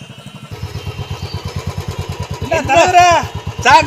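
A motorcycle engine chugs along in a fast, even pulse while riding, loud and close throughout, with a voice talking over it near the end.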